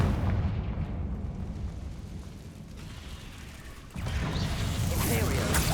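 A Confringo spell blast in Hogwarts Legacy, a rumbling explosive burst that fades into low ambience before a second loud crackling surge of blast noise returns.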